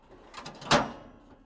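Sliding tool drawer in a Citroën Jumpy van closing, a quick rolling slide ending in one sharp close, near and brief with faint background.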